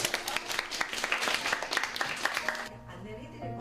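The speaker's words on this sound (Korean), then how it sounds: "박수로 맞아주세요." Students in a Seoul high school clap together to welcome a teacher. The applause is dense and lively for nearly three seconds, then cuts off, leaving a quieter room with a low hum.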